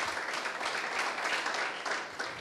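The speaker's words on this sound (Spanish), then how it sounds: "¿Cuántos aplauden el nombre del Señor?" A church congregation fills the room with steady, dense applause, many hands clapping together at an even level throughout with no talking over it.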